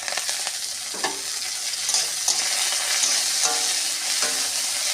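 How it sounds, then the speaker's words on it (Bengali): Gima greens hit hot oil tempered with black cumin and bay leaf, giving a loud, continuous sizzle close to the mic, broken by periodic stirring scrapes and clinks, with no talk. "কালো জিরে ফোড়নটা হয়ে গেছে শাকগুলো আমি দিয়ে দেবো"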